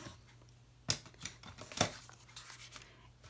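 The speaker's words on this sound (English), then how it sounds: "Use your bone folder, get a nice crease" A bone folder creases Smoky Slate cardstock, making a few short, dry scraping strokes close by, with two sharper swipes standing out against quiet room noise.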